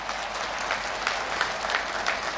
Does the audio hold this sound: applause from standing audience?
yes